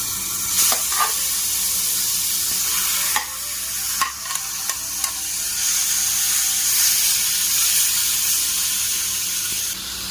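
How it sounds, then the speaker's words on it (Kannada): Grated guava drops into hot oil and fries with a dense, close sizzle, broken by a few scraping stirs and clinks of a utensil early on, then settling into a continuous hiss. "ಎಣ್ಣೆ ಬಿಸಿಯಾಗಿದ್ದ ಕೂಡಲೇ ನಾವು ತುರಿದಿಟ್ಕೊಂಡಿದ್ವಲ್ಲ ಸೀಬೆಕಾಯಿ, ಅದನ್ನು ಇದಕ್ಕೆ ಹಾಕ್ಕೊಳ್ತೀನಿ"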